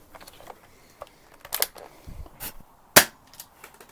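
A BB gun handgun fires at a target, a few sharp snapping shots among small mechanical clicks and handling noises, close by.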